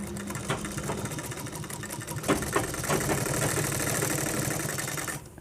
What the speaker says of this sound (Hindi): तो हम यहाँ 7 इंच पर सिलाई मारेंगे।